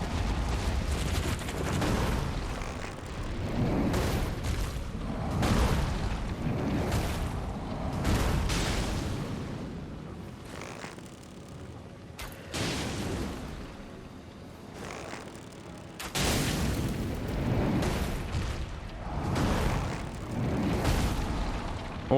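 Fire attacks in Elden Ring erupting in a run of heavy booming blasts and roaring bursts, loud and sustained with brief lulls, no voices over them.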